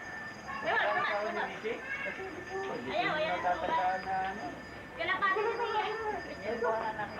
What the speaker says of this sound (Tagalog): Ayun yung aso ni Tessie.